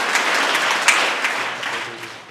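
A room of people applauds guests at a cyber safety awareness workshop held by a Rotary Club, a dense burst of clapping that gradually thins and fades.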